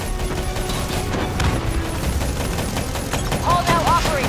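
Rapid gunfire in the Call of Duty: Black Ops III boss fight against Hall's Manticore, dense overlapping bursts and shots rattling continuously, with explosions and mechanical clanks mixed in.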